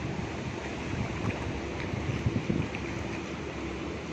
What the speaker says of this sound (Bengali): ঢেউ পানিতে।